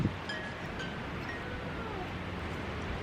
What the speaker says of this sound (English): I didn't expect the wind gusts to be like crazy like that